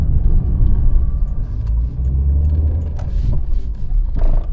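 A 1980s Talbot Solara saloon car drives along with a steady, loud engine drone and heavy low road rumble, a few faint clicks and knocks rising briefly over the hum.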